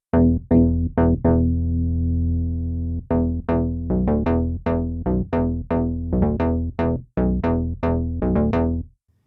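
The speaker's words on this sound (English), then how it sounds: "Add some chorus." An analog synth bass played with a clavinet-style patch, thickened by an octave bass layer and a chorus effect, plays a loud riff of plucky repeated notes with one long held note near the start, alone without talk.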